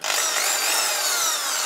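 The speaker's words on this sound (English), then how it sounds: "I'm taking a drill bit that's a bit smaller than the size of the rivets." Power drill boring out rivets on an Amiga 2000 power supply casing, a continuous high-pitched whining grind heard close and loud for the whole stretch, without speech.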